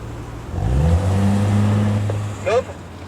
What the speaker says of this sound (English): The BMW's on the way towards you now.